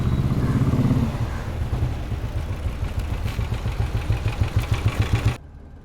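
A car engine idles nearby with a steady, slightly rough pulsing throb that persists for several seconds and then cuts off abruptly near the end.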